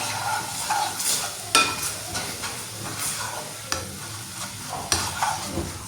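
Flour batter whisked vigorously in a bowl for a chicken paratha roll, heard as continuous close scraping and stirring with periodic sharper clacks against the bowl, steady and busy throughout, no talking.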